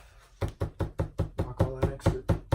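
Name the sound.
knocking excess flocking off a brant decoy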